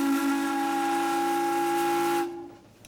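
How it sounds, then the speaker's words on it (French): A boat's steam whistle sounds in one long, steady blast, loud and close with a breathy hiss. It cuts off sharply near the end and a faint tail of hiss lingers. "Et maintenant, un grand coup de sifflet."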